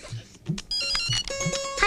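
A telephone ringtone plays in a home, a steady electronic melody with repeating tonal bursts starting partway through, loud and close, with brief voices heard just before it.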